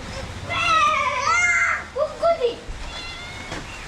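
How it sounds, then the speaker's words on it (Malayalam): A cat in a family home gives a few drawn-out, wavering meows close by, followed by shorter chirping calls, with faint household background noise. "സ്വന്തം കുടുംബാംഗത്തെ പോലെയാണ് പൂച്ചയുള്ളത്"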